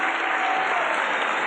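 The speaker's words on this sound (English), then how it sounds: "She's taking the applause" An outdoor opera audience at an open-air park concert in San Francisco applauds Welsh soprano Margaret Price, a dense, steady wash of clapping from a large crowd with no break.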